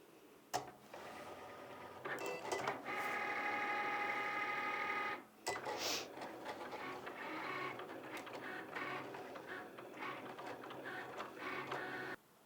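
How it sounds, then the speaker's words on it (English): A Cricut cutting machine slicing holographic heat transfer vinyl whirs and buzzes in rapid motorized bursts, with short pauses and stuttering carriage movements, close and fairly quiet. "you can just hit the Cricut button and we're ready to go"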